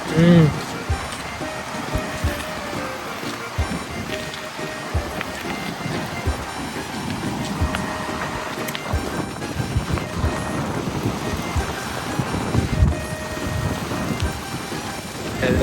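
Wind buffets and sea waves pound the sandy coast at Chempianpattu, Jaffna, a continuous loud rushing roar with gusty bursts throughout, heard close and outdoors, with people talking under it.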